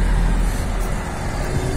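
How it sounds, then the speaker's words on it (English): Big trucks idling and moving around a truck yard make a steady, close low rumble of diesel engines with a wash of road noise over it. "There's a lot of big trucks in here"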